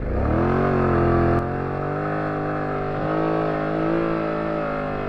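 A BMW F900GS motorcycle pulls away in second gear through very deep sand, its engine roaring loud and close, holding high revs under strain, then dipping briefly and picking back up.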